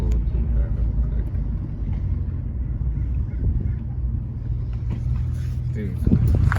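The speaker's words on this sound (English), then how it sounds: "Let me just pull up the car real quick." A Lexus SC300 rolls slowly forward as it is pulled up, its low engine rumble steady throughout and a bump of louder noise near the end, with people talking over it.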